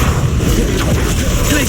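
A Confringo fire blast spell in Hogwarts Legacy erupts in a low, rumbling boom that sustains through the short moment, with a voice briefly audible over it.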